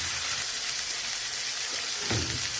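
Alexandrian-style beef liver hits hot oil in a pan, giving a loud, steady sizzle and crackle that runs throughout with a brief surge near the end.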